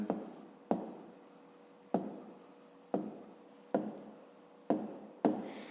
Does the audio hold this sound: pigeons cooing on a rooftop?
no